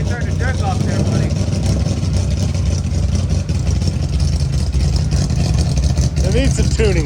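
A small engine running rough and out of tune with the choke still pulled, idling with a loud, continuous uneven chug while people talk over it nearby.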